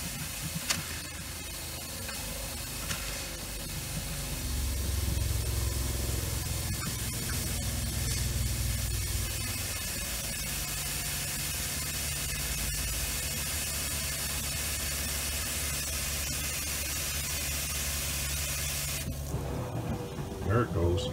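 Antifreeze sprays in a steady hissing rush through opened RV plumbing while a Grand Design RV is winterized, a broad continuous spray running for most of the stretch before cutting off near the end, with a low rumble underneath.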